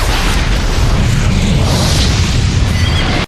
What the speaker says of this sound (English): Peter drained Irene's nitroglycerin and detonated it with explosives